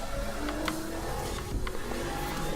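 Race car engines in Forza Horizon 4, among them an Audi R8 and a Lamborghini, drone and rev continuously in a crowded pack, with overlapping engine tones and faint tire noise.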